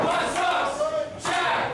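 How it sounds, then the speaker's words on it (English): A crowd at a pro wrestling show in Santa Cruz, California, roaring and yelling without letup, a dense, loud, close wall of cheering with a short dip near the middle. "As we hear the crowd here down in Santa Cruz getting wild"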